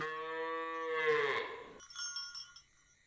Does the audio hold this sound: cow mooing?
yes